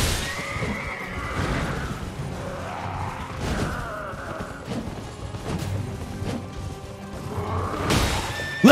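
A horse in the video game Elden Ring neighs and whinnies repeatedly over roughly nine seconds, the calls rising and falling with some hoof clatter, moderately loud with no talking.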